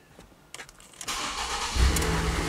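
A Ford Escape four-cylinder with a misfire cranks briefly and catches, then settles into a loud, steady run nearby.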